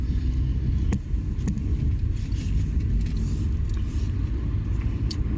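Inside an Uber car on the move, a steady low road rumble and engine drone fill the cabin, with a few faint clicks and knocks and no voices.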